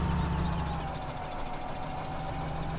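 Steady, droning tractor engine in Farming Simulator 17, a constant mid-pitched chugging hum that runs evenly without pause and stays fairly faint.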